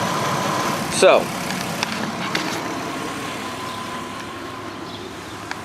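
A 2004 Audi TT Convertible engine idles with its alternator charging, giving a steady low hum with a brief louder surge near the start and a single spoken word over it.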